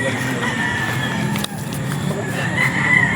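A stag rooster at a game farm crows out near the microphone, a drawn-out call rising over background clucking and farmyard noise.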